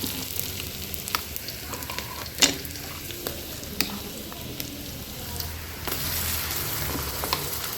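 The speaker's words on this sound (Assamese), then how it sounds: "পিঁয়াজখিনি ভজা হৈ গ'ল এতিয়া ইয়াত দিম আদা নহৰু পেষ্ট" Sliced onions fry with ginger garlic paste in a pan, giving a steady sizzle broken by several sharp clanks and scrapes as they are stirred. The sizzling grows louder and fuller toward the end.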